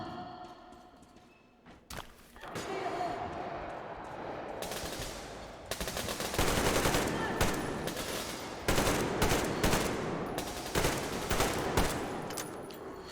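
Bursts of automatic gunfire erupt during an ambush in the video game Metro Exodus, loud rapid volleys coming in repeated waves with brief pauses between them.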